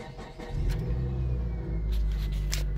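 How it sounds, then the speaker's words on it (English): A 2007 Mitsubishi Eclipse engine cold-starts: a brief crank, then a loud, steady idle with a low rumble, heard up close. "That was a cold start, by the way."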